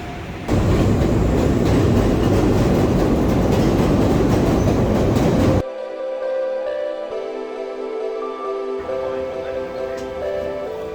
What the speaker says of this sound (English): First experience on the subway. Chicago Transit.